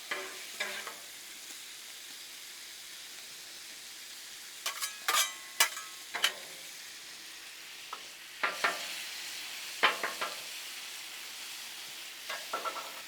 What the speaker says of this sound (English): It is hard to beat bacon frying up on the Blackstone.